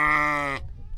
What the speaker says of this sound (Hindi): ये जी भेड़ें आ चुकी हैं